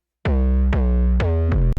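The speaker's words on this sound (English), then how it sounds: "I'm also layering more basses like this." Deep, sustained layered 808 bass notes in a hard-hitting K-pop boy-group style, with a bright layered top, hitting four times in a slow pattern, loud and alone, ending on a quick snare-like click.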